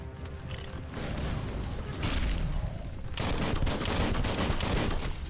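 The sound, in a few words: gunfire from a gun in the video game Biomutant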